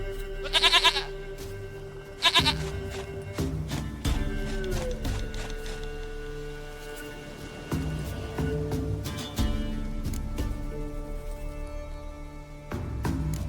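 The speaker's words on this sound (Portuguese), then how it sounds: "Minha cabra, cabra querida e amada." Goat bleats in The Witcher 3: Wild Hunt, with short, sharp calls repeated several times at intervals over a steady game soundscape with music and ambient tones.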